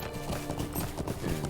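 Quick, steady clip-clop of horse hooves trotting in the video game LOTRO, close and fairly even in rhythm, with no other sounds.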